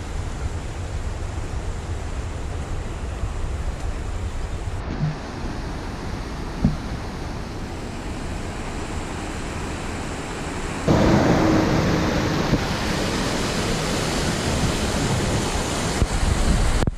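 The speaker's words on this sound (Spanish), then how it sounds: "Es el río Narcea." The Narcea river flowing in a rural valley with kiwi plantations, a steady broadband wash of moving water that holds constant throughout and grows louder and closer in the final seconds, with no voices.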